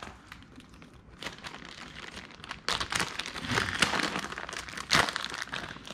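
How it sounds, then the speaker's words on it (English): Packaging around a 1-inch roll of 3M double-sided tape is torn and crinkled open nearby, with soft rustling that turns louder and busier halfway through, marked by sharp crackly rips. "let's rip this open."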